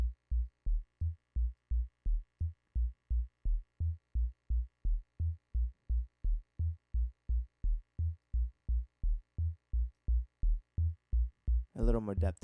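A deep 808 synth bass with added drive distortion pulses in a steady, even rhythm, about two hits per second, loud and alone, with a brief burst of other sound at the end.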